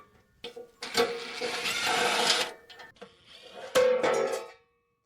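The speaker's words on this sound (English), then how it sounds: "So now we're going to take the mounting plate off the back," A power driver whirs in two long bursts while the mounting plate is unscrewed from the back of an EG4 wall-mount indoor battery, close and fairly loud with short clicks between runs.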